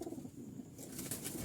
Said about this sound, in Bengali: এইখানে কিছু কবুতর আছে।